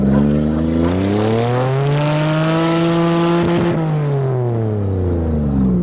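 A manual Toyota floored at full throttle from inside the cabin, the engine droning loud and steady as its pitch climbs, holds, then eases off near the end.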